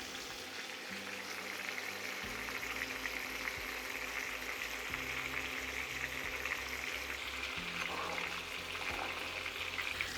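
Pork ribs with sliced garlic and ginger fry in a pan, giving a steady, soft sizzle that runs evenly throughout beneath gentle background music.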